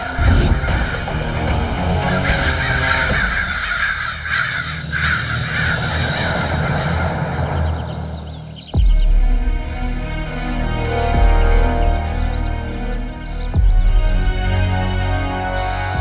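Black crows caw loudly and harshly in a dense forest, several sharp calls ringing out one after another, near and with no speech.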